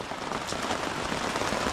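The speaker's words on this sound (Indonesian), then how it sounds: "Aduh, bro, hujan lagi maghribnya." Steady rain falls in a forest at dusk, a dense, even hiss of drops pattering on leaves and surfaces, continuous and moderately loud with no voices.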